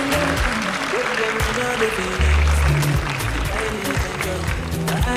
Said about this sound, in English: A big hand clap for Soko Kenya.